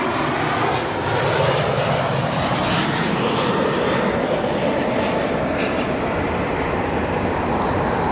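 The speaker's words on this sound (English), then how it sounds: "Our next arrival, Aer Lingus A330, arriving from Dublin after a 7-hour and 12-minute flight." Aer Lingus Airbus A330 jet arriving at O'Hare airport from Dublin, a steady, loud, broadband engine roar that holds evenly throughout without a break.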